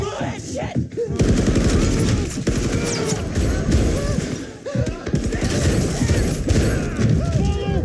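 Automatic gunfire from a Stranger Things season 4 episode rattles almost without pause, loud bursts of machine-gun fire with crashes and shattering over a tense scene, while people talk over it in reaction.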